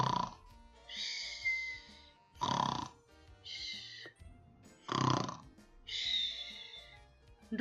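A voice imitates a snore while reading a children's story aloud, producing three long rasping inhaled snores, each followed by a whistling exhale, loud and close with no other sound.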